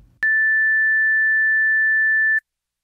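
A clean 1.76 kHz sine test tone, part of a frequency demonstration, starts abruptly and holds steady and loud for just over two seconds, then stops cleanly into silence.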